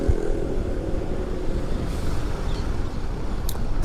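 Motorcycle fitted with a racing exhaust rumbles close by, a deep, steady low-pitched engine drone with a rough throb but no distinct rising revs, heard alone.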